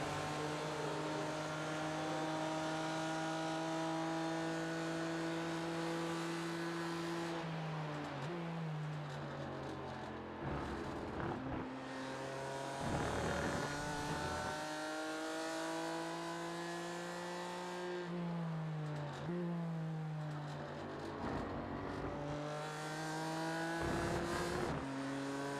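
Simulated BMW race car engine in iRacing at Road America, a loud, close, high-revving drone that climbs through the gears, drops with downshifts under braking twice, then pulls hard again, with no voices.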